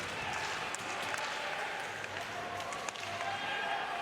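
An ice hockey arena crowd at a Skellefteå versus JYP game roars and cheers for the home side, a continuous broad wash of noise with scattered claps and thumps under a commentator's voice.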